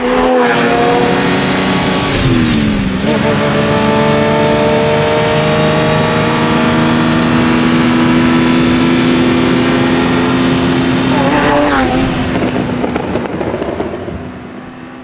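A 1985 Ferrari Testarossa engine revs hard, its pitch climbing and dropping as it shifts gears several times with a metallic gearchange sound, close and continuous throughout.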